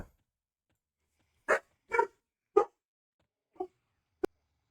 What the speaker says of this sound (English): someone came to the door. My woof woofs are not happy.